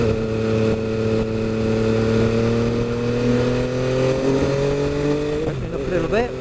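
An MV Agusta F3 800 motorcycle engine drones steadily at close range while slowing into a tightening bend, its pitch dropping gradually before a quick blip near the end as it downshifts into third.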